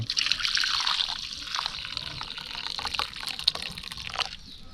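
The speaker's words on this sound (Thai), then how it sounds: "เทน้ำออกก่อนเป็นน้ำสดมัน" Water is poured out of a pot while cooking, giving a continuous splashing trickle with a few drips. It is fairly close and ends near the close.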